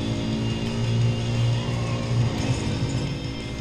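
Engine of a yellow Mercedes revving in Need for Speed III: Hot Pursuit, a steady droning mid-pitched motor note that swells slightly and holds, close and fairly loud.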